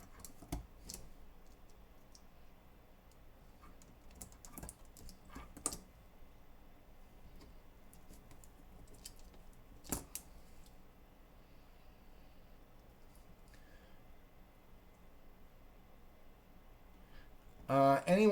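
Mechanical keyboard switches pressed into a hot-swap 60% RGB PCB, sparse sharp clicks and snaps scattered across a quiet background, with a louder clatter right at the end.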